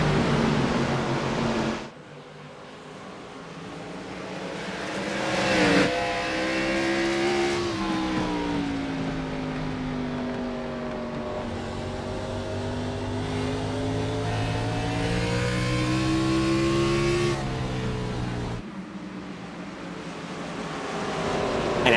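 Race cars in the iRacing game roar off at the green flag of the Throwback 150 at North Wilkesboro Speedway, a loud sustained engine drone with shifting pitch that swells as the pack passes and drops off briefly near the end.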